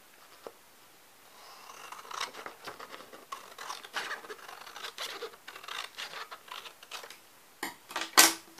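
Scissors cut down a paper junk journal cover in a series of soft, close snips and scratchy rustles. The sound is faint and irregular and ends with one sharper crinkle.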